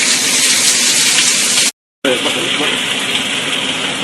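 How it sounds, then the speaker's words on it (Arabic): Chopped onions hit hot oil in a pan and fry with a loud, steady, hissing sizzle that cuts out briefly and then resumes at full strength. "سخن الزيت، نبدأ ننزل البصل"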